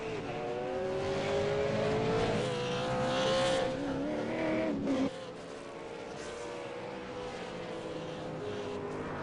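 About twenty V8 Supercars lapping Phillip Island in qualifying, engines droning and shifting pitch close by as one accelerates hard, then cuts abruptly to a quieter, more distant hum of cars on track.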